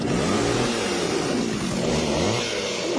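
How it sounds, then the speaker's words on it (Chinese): A motorcycle engine revs and accelerates, played as a vehicle sound-recognition example for young children; a steady, loud, close engine drone with rising and falling pitch sweeps throughout. "摩托车的声音"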